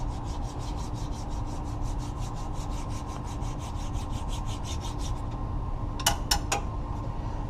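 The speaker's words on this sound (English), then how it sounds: "Make sure there's no gasket material stuck to it. By using a flat file." A flat file rasps across a metal surface to clean off old gasket material, a steady run of rhythmic rubbing strokes at close range, followed by a few sharper scrapes near the end.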